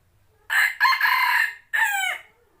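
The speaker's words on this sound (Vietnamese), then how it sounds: "cái này gáy căng lắm rồi" A small young decoy rooster of about 800 grams crows loudly and close, alone: one long, bright, harmonic call broken into rising segments, then a shorter final note that trails off.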